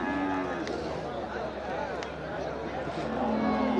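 Cattle at a busy livestock market in Melapalayam, with low lowing calls and moos rising now and then from a steady crowd murmur and people talking throughout.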